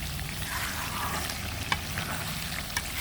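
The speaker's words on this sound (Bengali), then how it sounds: "একদম ভালোভাবে হাঁসের গোস্তটা এখন কষায় নেব" Duck meat stir-frying in a pot over a rural clay stove, with chunks of small potato and dried chillies in the mix, sizzling steadily and close, with a couple of brief scraping knocks from the stirring spoon.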